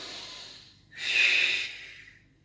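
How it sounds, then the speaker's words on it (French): A deep, steady exhale during a stretching exercise in a training warm-up. A single long, breathy rush of air, close and moderately loud, rising and then fading over about a second, with softer breathing around it. "On expire bien."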